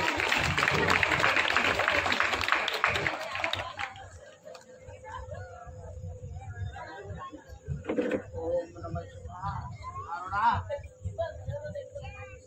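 An audience gathered for a devotional discourse claps loudly and densely for about four seconds, then the applause stops abruptly and someone speaks.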